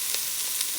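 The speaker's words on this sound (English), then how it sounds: "just going to drop in our diced onion, our garlic" Diced onion and garlic hit a hot pan for a beef stew and sizzle in a loud, steady hiss, heard close up with no talking.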